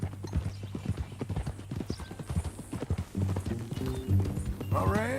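Horse hooves clip-clopping in Red Dead Redemption 2, a brisk, steady walking rhythm close by, ending in a horse's whinny near the end.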